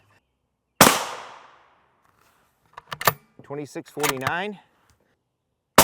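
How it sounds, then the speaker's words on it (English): A single sharp rifle shot fires a Winchester surplus M80 ball round, cracking loudly and ringing out briefly before someone speaks a short number nearby. "We have 2 rounds of our M80 ball. This is Winchester surplus."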